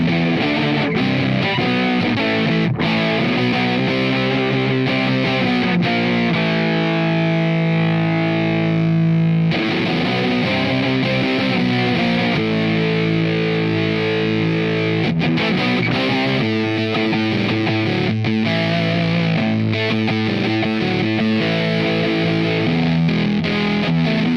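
A Crimson fuzz pedal pushes an electric guitar into thick, saturated distortion with the gain set to 3 o'clock, loud sustained chords and riffs ringing continuously with brief breaks between phrases.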